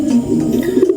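Racing pigeons in a loft coo steadily and continuously, a low, close, rolling murmur of several birds with no talk over it.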